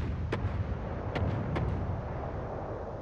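Ship artillery shells in the naval combat game World of Warships, three or four sharp distant cracks of incoming gunfire spaced about a second apart over a steady engine and sea rumble, with no voices.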